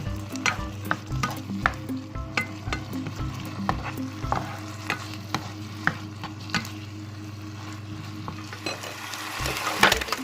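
Garlic frying in a pan until dry crackles with a constant sizzle, while a spatula scrapes and taps the pan in a fairly regular rhythm beneath a low steady hum.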